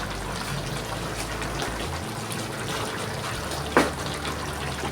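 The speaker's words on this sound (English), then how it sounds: "So I'm going to add some more of the boiling water." Boiling water poured into a pot of Jamaican oxtail gravy, a close, continuous trickling and splashing pour with a brief bright clink near the end.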